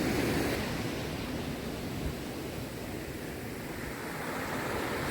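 Waves wash onto the shore at the quiet Padukuri beach in Udupi, a broad continuous rushing hiss with a slightly louder surge at the start, steady and unbroken with no voices.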